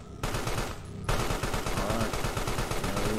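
Rapid automatic gunfire from enemies in the horror game Carrion rattles loud and dense, with a short break before a sustained, continuous burst.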